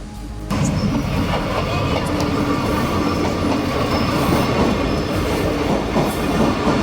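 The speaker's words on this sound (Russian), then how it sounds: "посчастливилось увидеть местный рельсовый транспорт" A local rail transport train passes close by in a small town on a rainy day, a loud continuous rumble with rhythmic wheel clatter and faint squeal that starts abruptly and holds steady throughout.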